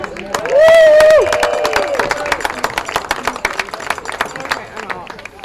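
A high school crowd honouring its seniors at Mukwonago breaks into a loud whoop, then keeps up lively, close clapping with cheering and crowd chatter underneath.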